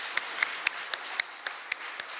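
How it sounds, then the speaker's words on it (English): A small audience at a university inaugural lecture gives sparse, evenly spaced claps, about nine distinct hand claps with no talking, fairly close and moderately quiet. "a round of applause again"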